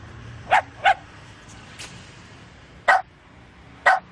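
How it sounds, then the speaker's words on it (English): A mangy old dog barks four times in short, separate bursts, fairly close and alone against a quiet background, with no talking. "Tynell, what the hell am I supposed to do with this mangy old dog?"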